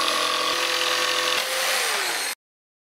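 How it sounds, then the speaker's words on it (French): A jigsaw cuts through a laminate floor plank with a dense, loud buzzing rasp, its pitch sagging slightly before the blade stops abruptly after about two seconds. "Puis, scie avec la scie sauteuse."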